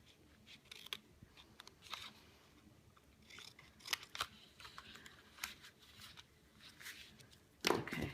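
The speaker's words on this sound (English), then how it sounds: "So I'm going to cut them slightly on an angle there." Scissors snip through paper pieces for a large stamped gift bag, a series of quiet, crisp cuts at an uneven pace, closing with one louder snip near the end.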